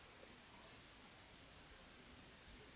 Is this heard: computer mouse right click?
yes